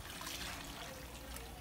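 Water is poured into black pepper, garlic cloves and maseca to make the sauce for a goat stew, a quiet, steady trickle close by.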